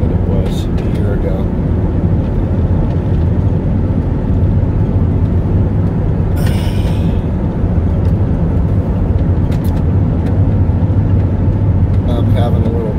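A car drives out from Santa Fe toward Nambe, giving a steady low road and engine drone throughout, with a person talking over it.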